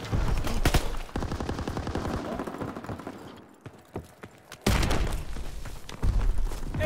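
Rapid bursts of automatic gunfire and heavy booms in Call of Duty WWII's War mode on Operation Griffin, a dense close-range firefight that pauses briefly before erupting loudly again.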